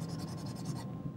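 A paintbrush sweeps across paper in quick, soft, rhythmic strokes for under a second, then stops. The strokes sound faint and close up.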